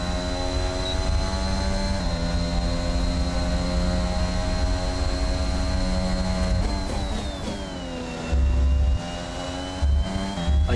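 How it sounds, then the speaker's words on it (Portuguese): Formula 1 car engine in the F1 2021 racing game holding a steady high-pitched whine while accelerating along the track, with a brief pitch dip and a couple of loud low thumps from running over a kerb near the end. "Aí passa na zebra acelerando"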